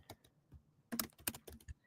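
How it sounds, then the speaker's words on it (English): Fingers type on a computer keyboard in quick, quiet bursts of clicks: a few scattered taps, then a denser flurry of keystrokes up close, with no talking. "so I'm just typing"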